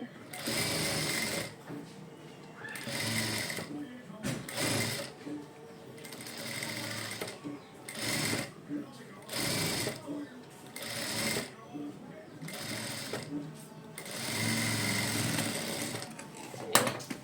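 A sewing machine stitches a cut-work design on a blouse in short, close bursts of rapid mechanical clatter separated by pauses, with a voice talking in between and over the stitching.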